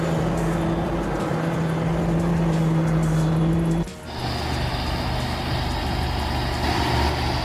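A heavy bulldozer engine rumbles steadily while maneuvering onto a lowboy trailer, with a brief dip and a shift in its drone midway, close and continuous.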